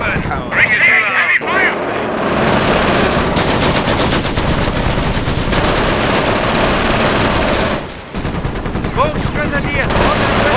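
Sustained machine-gun and rifle fire from a Company of Heroes battle, Europe at War mod, rattles loudly and almost without pause, with shouted voice lines mixed in and a brief lull near the end.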